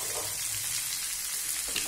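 Okra fries in a pan with red chilli, giving a dense, even sizzle and soft stirring noises, close and continuous with no speech.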